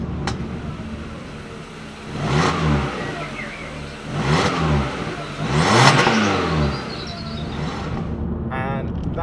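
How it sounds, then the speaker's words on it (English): An MG3 car with its original exhaust revs three times in slow succession, each rise swelling and falling back to idle, heard up close with a roughish engine tone and no talking. "a really awful clip of what the car sounded like beforehand"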